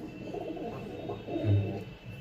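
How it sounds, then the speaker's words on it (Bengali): A single long-bodied Giraj pigeon coos close by, a low throaty burst swelling near the middle of the short stretch over faint background murmur. "দেখুন পায়রাটাকে, একদম গিওরাজ পায়রা"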